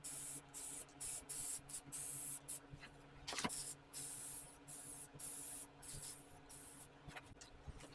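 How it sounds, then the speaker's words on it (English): Rust-Oleum Laurel Green spray paint hisses from a can in a rapid series of short bursts with brief pauses between them, close and fairly quiet, with no talking. "I was going to spray it because that's going to be the easiest to get into all the insides"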